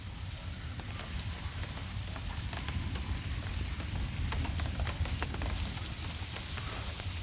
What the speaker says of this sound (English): It's all good though. I'm catching rain.